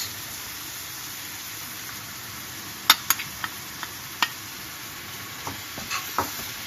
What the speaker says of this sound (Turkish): unla tereyağını karıştırdıktan sonra biraz kavuruyoruz